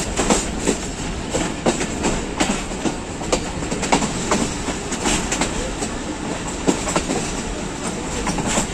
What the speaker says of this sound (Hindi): कोहाट एक्सप्रेस अपने पहले स्टेशन गोलड़ा शरीफ जंक्शन पहुंच रही है